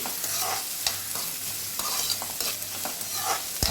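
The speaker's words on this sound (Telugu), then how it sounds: "వేయించి ఇది హై ఫ్లేమ్ మీద వేయించుతున్నానండి నేను" Ivy gourd (tindora) frying hard on high flame, a steady close hiss of oil with occasional stirring scrapes against the pan, no talking.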